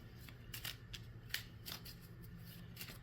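Tarot and oracle cards being shuffled in several quick riffling bursts with soft papery snaps, close and fairly quiet against a low background hum.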